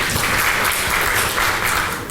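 An audience at the Lokmat awards event applauds to welcome Union road transport, highways and MSME minister Nitin Gadkari on stage, a loud, dense burst of clapping filling the whole moment.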